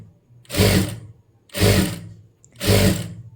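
A sewing machine stitches the lining piece of a blouse sleeve for a long jacket. It runs in three short, close bursts of rapid whirring with brief pauses between them, and no voices are heard.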